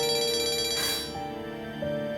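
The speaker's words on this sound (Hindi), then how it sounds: "हाँ, दुआ का फोन है।" A phone ringtone plays, a bright electronic melody of repeating tones, fairly clear with a faint rustle partway through.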